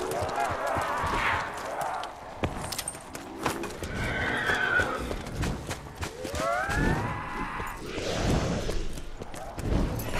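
Pegasus, the winged horse in Black Ops 4 Zombies, whinnies in several drawn-out neighs over a steady game background, with some hoof-like clatter and faint voices.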